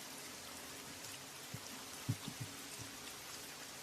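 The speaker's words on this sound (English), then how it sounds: "it's raining down" Steady rain falls in a soft, continuous hiss, faint and even throughout, with a few dull low knocks of drops striking a surface near the middle.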